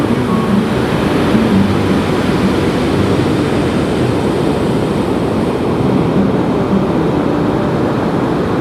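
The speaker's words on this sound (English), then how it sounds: "look at the waves crashing against the rocks there" Ocean waves crash against the rocks at Cox Bay beach in Tofino, British Columbia, a loud, continuous roar of surf that stays steady throughout and carries no voices.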